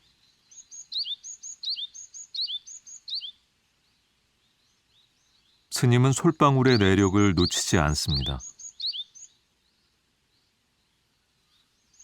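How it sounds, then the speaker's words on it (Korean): Great tit chicks call from a nest in a crevice of a stone wall at a temple stupa garden on Duryunsan mountain, giving quick high chirps in bursts over the first few seconds before someone speaks. "새끼 박새들 울음소리가 커져가는 부도전."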